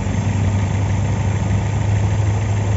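A 2008 Opel Zafira car engine idles smoothly at close range, a steady low hum and rumble with no misses or changes in pace.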